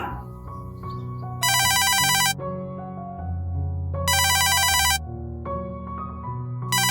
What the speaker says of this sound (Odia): ରାଜା କଥା ପଡୁ ପଡୁ ତା ଫୋନ ଆସିଛି।